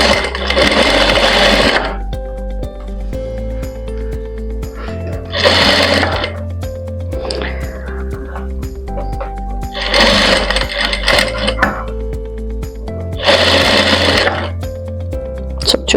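A sewing machine stitches piping onto a boutique-style blouse in several loud, rapid whirring bursts separated by quieter pauses, close and alone without speech.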